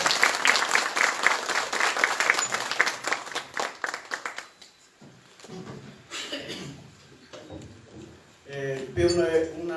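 Audience applause after a talk at a criminal law and criminalistics academic event, loud and sustained for about five seconds, then fading into scattered claps, shuffling and room noise, with some voices mixed in.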